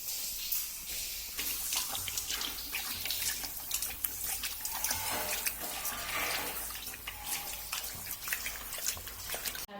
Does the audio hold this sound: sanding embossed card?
no